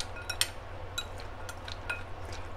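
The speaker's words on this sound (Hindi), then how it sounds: "इन सभी को बहुत अच्छे से हम मिक्स कर लेंगे।" A spoon stirs chana chaat with tamarind and coriander chutney in a bowl, giving a few light, scattered clinks and scrapes at close range over a low steady hum.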